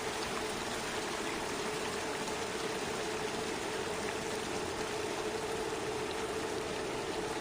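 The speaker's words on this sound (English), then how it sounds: "They passed the waterfall." A waterfall in a virtual cycling race game makes a steady, even rush of water, constant and moderately quiet throughout with no voices.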